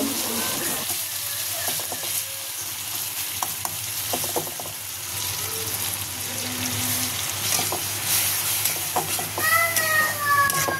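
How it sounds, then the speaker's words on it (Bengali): Spice paste of ginger and garlic frying in oil and being stirred in a pan for rui fish bhuna, a steady close sizzle with intermittent scraping stirs, and a few faint high squeaky sounds near the end. "পানিটা শুকিয়ে আসা পর্যন্ত মশলাটাকে কষিয়ে নেব"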